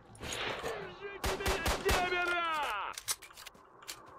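Bursts of rapid gunfire in S.T.A.L.K.E.R.: Shadow of Chernobyl, several loud sharp shots clustered together amid game sound effects, with a voice speaking over part of it.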